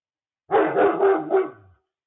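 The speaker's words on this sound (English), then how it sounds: "Oh my gosh, dog's going crazy today." A single loud, close run of excited dog barking lasts about a second, with a growly tail, then silence.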